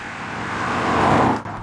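A Honda CR-Z's engine drones steadily under way, blended with tyre and road noise, swelling slightly mid-run before dipping abruptly near the end.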